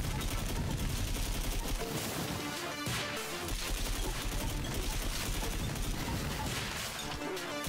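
Dense, continuous gunfire from the SODAMAN video game, with rapid overlapping shots and impacts rattling on loudly without pause, layered over game music.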